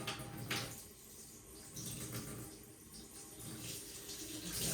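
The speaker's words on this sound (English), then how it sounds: "you don't want the water to be flowing too hard when you're putting it in" Lukewarm water runs steadily from a tap for a few seconds, a soft even hiss with slight swells, moderately near and quiet, no speech.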